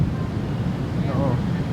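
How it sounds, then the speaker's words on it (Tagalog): Strong wind gusts steadily across the microphone, a loud, continuous low rumble that buffets throughout, with a faint voice briefly audible beneath it. "Ang lakas ng hangin."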